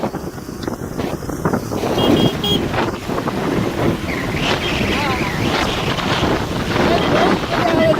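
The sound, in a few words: vehicles splashing water on flooded road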